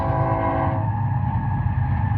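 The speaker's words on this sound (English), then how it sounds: "We can hear the train going by." Train rumbling past out in the desert, a loud continuous low roar with a tonal horn-like hum fading in the first second, heard at a middle distance without talk.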